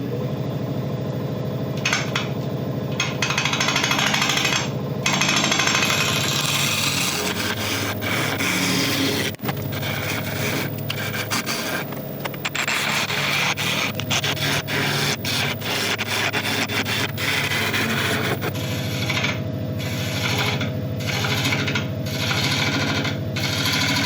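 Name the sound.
lathe tool scraping resin off outside of wood burl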